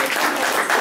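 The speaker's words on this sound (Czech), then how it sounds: "zatleskejte Betty." Children clapping together for Betty during a school class trip, a dense, steady burst of close applause filling the whole short moment.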